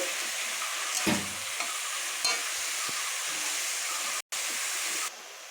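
Wax gourd and mourola fish frying in a pan with mustard seed tempering, a steady loud sizzle running throughout with a few soft scrapes and clinks of the spatula as the mixture is stirred.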